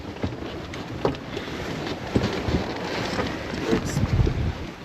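Wind rushes steadily across the microphone with rumbling gusts and faint water noise as a sailboat sails close-hauled into the wind, with no voices.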